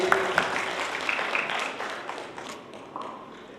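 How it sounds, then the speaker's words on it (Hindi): Audience applause at an award ceremony honouring a student, a dense wash of many hands clapping together at moderate distance, tapering off slightly over its few seconds. "जोरदार तालियां होनी चाहिए इस बालक के लिए"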